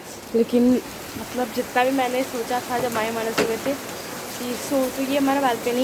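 Heavy rain falls outside a home balcony, a steady background hiss running beneath a person talking in Hindi throughout.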